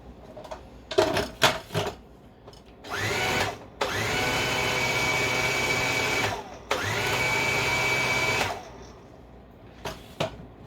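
A food processor whizzes a haggis meat mixture in short pulses, then two longer sustained whirring runs of a few seconds each, loud and close with a steady motor drone, and no talking.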